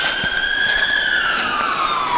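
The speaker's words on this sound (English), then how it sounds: "Here comes the ambulance, I think." An ambulance siren wails loudly and close by along a simple woodland trail, its steady rising-and-falling tone sliding gradually downward as the vehicle passes.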